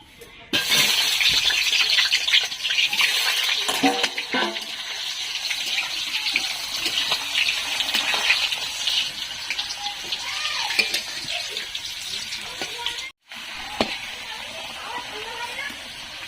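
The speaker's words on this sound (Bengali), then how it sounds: "তেল গরম হয়ে গেছে, এবার আমি আলুগুলো ভেজে নেব।" Potatoes fry in hot oil, a steady hiss with crackling bubbles sustained for most of the time, close and fairly loud, and a brief break near the end.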